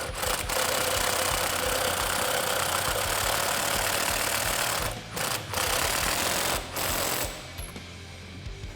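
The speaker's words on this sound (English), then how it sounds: "you can put that nut on and you can tighten her down" A spring compressor nut is tightened during a lowering-spring install on a 2008-2019 Dodge Challenger SR, a loud, continuous mechanical whirring and rattling that runs with only brief pauses.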